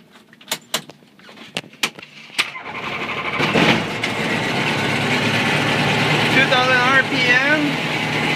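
A Flight Design CTSW light aircraft's engine starts with a few clicks and short bursts of cranking, then settles into a steady, loud running drone that holds to the end. Voices speak over the first part.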